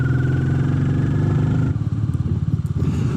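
A Royal Enfield Meteor 350 fitted with a belt drive rides along with a steady, close engine drone that turns rougher and more pulsing partway through.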